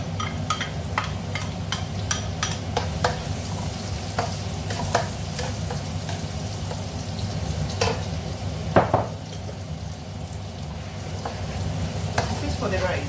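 Onions stir-frying in a pan for vegetable fried rice, a steady close sizzle with scattered clicks and scrapes of stirring running throughout.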